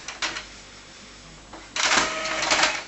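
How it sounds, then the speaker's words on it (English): Mechanical whir and rattle of an Epson R285 inkjet printer printing a document with an ink supply system fitted. Short clicks come first, then a louder sustained buzzing run of the print head near the end, with no voices. "Perfect prints coming out of the printer."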